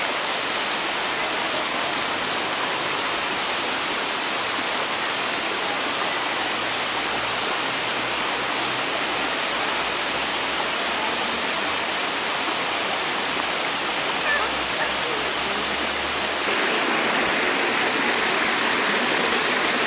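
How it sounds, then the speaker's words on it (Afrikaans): A 60-metre-high waterfall roars as a dense, continuous wash of falling water, loud and steady throughout without pause. "60 meter hoë waterval."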